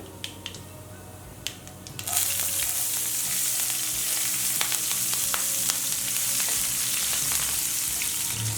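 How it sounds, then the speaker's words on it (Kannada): Chana dal, urad dal and two green chillies frying in hot oil: quiet light crackles at first, then a sudden loud burst of sizzling that settles into a steady spattering hiss with occasional pops. "ಕಡಲೆಬೇಳೆ ಉದ್ದಿನಬೇಳೆ ಸ್ವಲ್ಪ ಫ್ರೈ ಆಗಲಿ. ಇಲ್ಲಿ ನಾನು 2 ಹಸಿಮೆಣಸಿನಕಾಯಿ ಹಾಕ್ತಾಯಿದ್ದೀನಿ."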